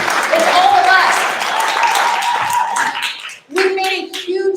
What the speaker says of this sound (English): You should clap.